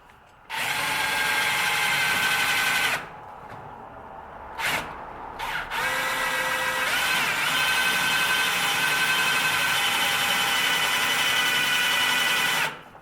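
A power drill whines loudly for a few seconds, pauses with light handling noise, then runs again steadily as a self-drilling screw bites into thick metal on a 1937 Buick Roadmaster.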